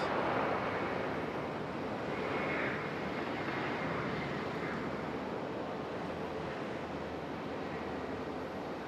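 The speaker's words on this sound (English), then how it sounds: "got a Southwest departing over here." A Southwest airliner departing Raleigh-Durham International Airport, heard as a broad, steady jet roar from a distance that holds evenly throughout, with no talking.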